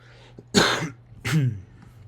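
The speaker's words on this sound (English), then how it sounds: "Sorry for all the coughs" Two harsh, close coughs about half a second apart, separated by quiet breathing and a faint low hum.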